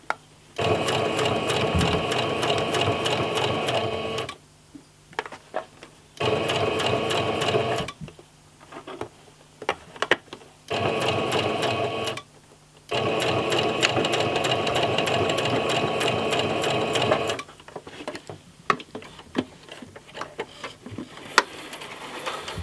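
A sewing machine runs in repeated bursts of rapid stitching, with short pauses between runs, while a beginner sews a seam and finishes with a back stitch.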